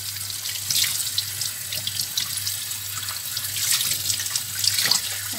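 Tap water runs steadily into a sink while a dorado fish is washed, a close continuous splash with handling noises and no talk.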